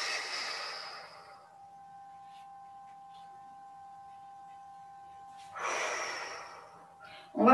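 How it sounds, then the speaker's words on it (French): Deep breaths during a qi gong exercise: one long, airy breath at the start, a quiet pause with a faint steady hum, then a second breath, ending on a sharp louder burst. "J'inspire en bas. J'expire en haut."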